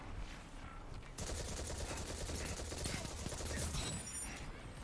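Video game gunfire striking the player from behind in rapid automatic bursts. It is a dense, steady, fairly close rattle that starts abruptly about a second in and continues to the end.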